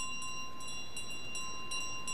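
A small hand bell rung by the goose in Untitled Goose Game, quiet repeated tinkling strikes at a steady quick rhythm over a low background hum.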